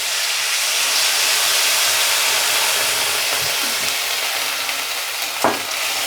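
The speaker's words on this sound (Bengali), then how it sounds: "এবার ডাঁটাগুলি সেদ্ধ হওয়ার জন্য মাপ করে একটু জল দিয়ে দেবো।" Water poured into a pan of cooking vegetable stalks and potato, giving a steady loud sizzling hiss that fills the whole stretch, with a few faint knocks of a utensil near the end.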